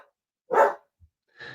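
A dog barks once in the background, loud and fairly near, followed by a softer bark after a pause, with no voices over it.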